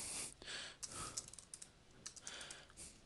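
Fingers type on a computer keyboard while filling in a tax form with name and address details, bursts of quick close keystrokes separated by short pauses, with no talking.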